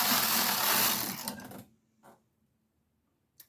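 A knitting machine carriage is pushed across a row of needles, giving a loud, rough mechanical rush for about a second and a half, then silence broken by two faint clicks.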